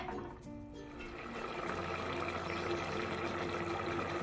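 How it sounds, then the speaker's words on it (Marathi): A pot of mutton kol with tamarind pulp boils steadily, a soft continuous bubbling and liquid churning, close and fairly quiet, with no talk. "उकळी छान आलेली आहे"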